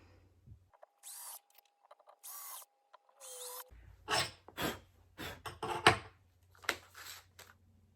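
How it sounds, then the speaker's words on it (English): Screws driven slowly into particle board with a power driver while fitting a desk and shelving, heard as a few short whirring bursts followed by a run of sharp clicks and knocks, close by and fairly quiet. "I'm just easing the screws in very gently because I don't want anything to split."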